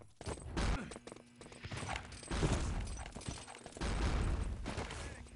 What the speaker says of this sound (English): Nice artillery from Cherry.